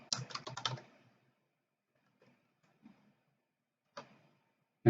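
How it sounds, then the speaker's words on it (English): Fast bursts of typing on a computer keyboard during a command-line hacking session: a dense flurry of close, crisp keystrokes, then quiet with a few isolated taps and a louder key press at the end. "So here if we type"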